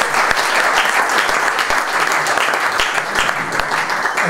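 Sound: audience applause for Michele

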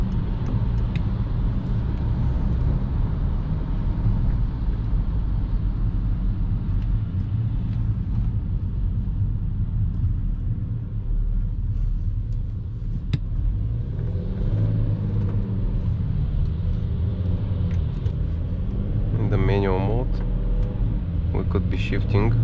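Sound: BMW X5 E70 3.0 SD diesel engine, city driving

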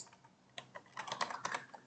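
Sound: computer keyboard typing a project name

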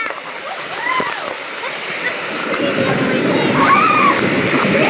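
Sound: waterfall splashing

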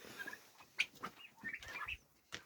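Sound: chickens eating broiler feed

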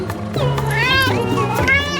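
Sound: cat meowing

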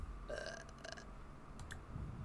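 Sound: a Sim burping in The Sims video game

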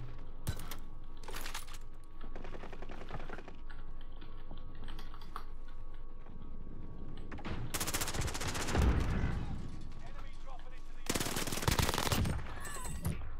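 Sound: gunfire in a video game

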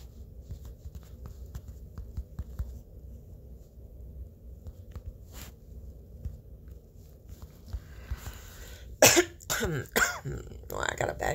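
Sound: cough

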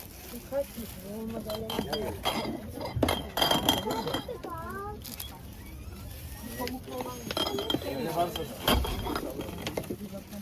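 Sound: glass products being handled and clinking

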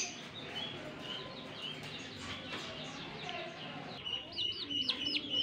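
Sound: chickens clucking and chirping

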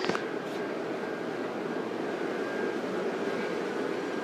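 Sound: Gemmy inflatable decorations inflating with blower fans

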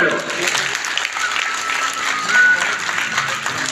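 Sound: audience applause at a road safety event

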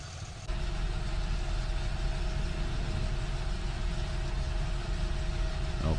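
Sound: Fendt Vario 700 tractor engine starting and idling, video game mod

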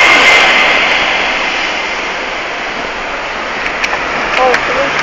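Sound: large truck passing on the street

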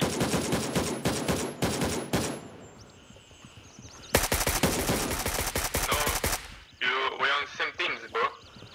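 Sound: gunfire in the video game Gray Zone Warfare

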